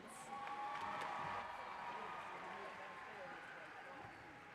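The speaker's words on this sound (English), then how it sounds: "Let's give one more round of applause for that incredible band performance." Hall audience at the Illinois FFA State Convention applauds after a band performance, a broad swell of clapping and cheering that peaks early and then eases off, with voices mixed in.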